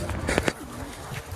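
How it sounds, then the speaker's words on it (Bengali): Pigeons coo softly on a rooftop pigeon farm, a few low murmuring calls close by against a steady background hum. "এই যে কিছু কবুতর এখানে আপনার ডিম নিয়ে বসে আছে"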